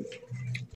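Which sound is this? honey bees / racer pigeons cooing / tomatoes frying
racer pigeons cooing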